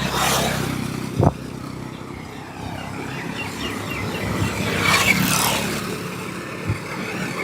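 Vehicles pass along the Teesta Barrage road in Bangladesh, their engine rumble and tire roar swelling and fading in waves, with a sharp thump partway through and no talking.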